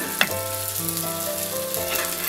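A freshly flipped okonomiyaki sizzles in a hot pan, a short clatter at the flip followed by a steady, close, fairly loud hiss with faint tonal hum beneath.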